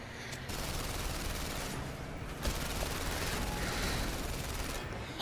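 Steady, fairly quiet rattle of gunfire in The London Heist game, continuous and slightly distant, with a brief sharper burst midway and no speech.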